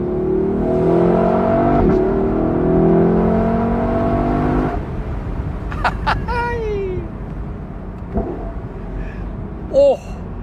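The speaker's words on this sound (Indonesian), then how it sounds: "knalpot standarnya aja itu sudah mengeluarkan suara yang cukup untuk membangkitkan adrenalin" A Lexus with its stock exhaust revs loudly with gear changes in manual mode, a sustained engine roar that drops off at midpoint, followed by quieter idle with brief squeaky whines.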